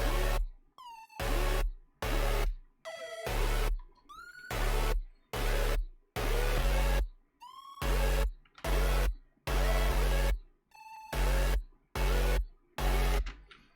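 Bright stacked future bass synth chords hit in short, evenly spaced bursts with sharp cutoffs, some carrying pitch-bending squeals, forming a choppy rhythmic electronic pattern.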